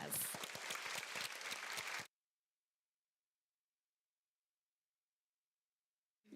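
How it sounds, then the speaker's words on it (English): A school board meeting audience applauds the Benton Elementary team with dense clapping for about two seconds, then it cuts to silence, with a brief faint sound at the very end. "let's give Benton Elementary a big round of applause"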